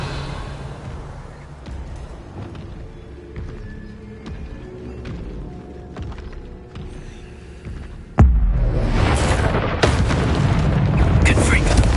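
A Revelio spell cast in Hogwarts Legacy comes as a sudden loud magical burst that swells into a broad, booming whoosh over a low droning hum.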